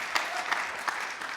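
Brief applause from a church congregation at a New Year revival service, a steady mid-level patter of clapping with a few sharper claps standing out over about a second and a half, no voices.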